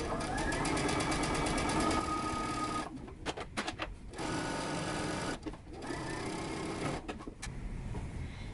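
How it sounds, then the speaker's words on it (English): Sewing machine understitching close to the edge of a seam allowance on a pants yoke: rapid, steady mechanical stitching in several bursts separated by short pauses, close and clear. "We're going to understitch, stitching close to the edge."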